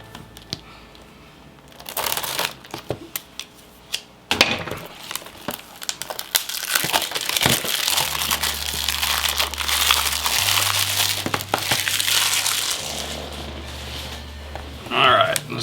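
Packaging for the Xbox game Back 4 Blood: Ultimate Edition being opened with scissors, with crinkling plastic, rustling and crisp snipping sounds at close range, busy and irregular, alongside a low steady hum.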